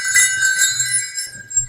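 Metal bells on a handmade, sewn leather harness in a harness shop jingle in repeated bright shakes, loud and close, with no talking.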